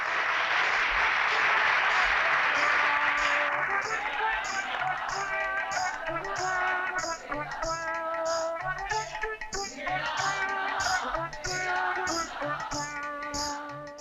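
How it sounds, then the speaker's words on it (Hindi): A crowd claps loudly for a few seconds, then the applause fades under music and voices. "तालियां"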